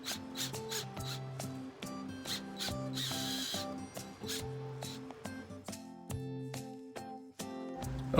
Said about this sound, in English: I'm going to drill a hole in this to accept the dowel on the other side